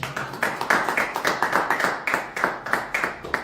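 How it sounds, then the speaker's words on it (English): Audience at an investment meet-and-greet in Toronto clapping in a steady stream of distinct claps, fairly close and moderately loud, with no voices over it. "I believe that deserves a round of applause"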